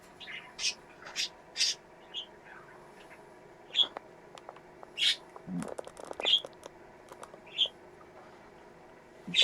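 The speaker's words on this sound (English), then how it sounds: "I got the bird video playing on the big screen" Bird song played from a video on a big screen indoors: scattered bright chirps and short whistled calls, spaced a second or so apart, with small clicks and rustles in between and no talking.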